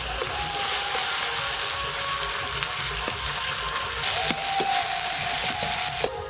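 Onions and a turmeric-laced spice paste sizzle loudly and steadily in a pan for a fish curry, with occasional light scrapes as the mixture is gently stirred; no one speaks.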